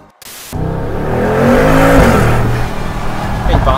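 Mercedes G700 Brabus accelerating hard, engine roar rising sharply after a brief quiet start and holding loud with shifting pitch, close by, with people talking.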